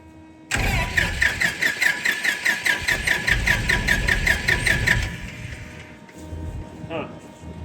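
A Titan 340 aircraft piston engine cranks with a rapid, rhythmic starter chug for about four seconds, then winds down without catching; close and loud, with a voice briefly after.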